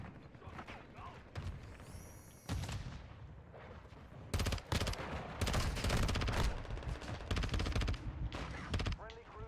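Automatic weapons fire in a Call of Duty Modern Warfare 2 match, loud rapid bursts and sustained rattling volleys with scattered game effects, and a player's voice now and then.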